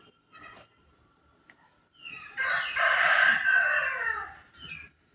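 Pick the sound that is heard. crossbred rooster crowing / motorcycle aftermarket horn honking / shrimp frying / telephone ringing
crossbred rooster crowing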